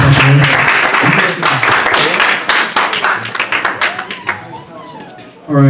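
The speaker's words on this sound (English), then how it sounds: "Round of applause for everyone." An audience at a youth retreat applauds, loud dense clapping that thins into scattered individual claps before fading, with a voice briefly starting at the end.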